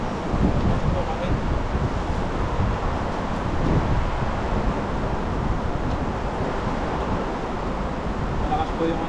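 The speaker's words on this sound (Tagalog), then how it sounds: "Malakas po yung ano dito, yung hangin." Strong wind gusting steadily outdoors on a winter evening, roaring into the microphone as broadband rushing noise throughout, with no clear speech over it.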